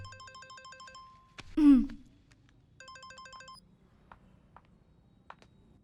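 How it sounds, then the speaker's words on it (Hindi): A phone rings in a Hindi-dubbed South Indian action film, its electronic ringtone sounding in two repeated bursts of rapid tones, separated by a brief loud whoosh and followed by faint clicks. "फोन।"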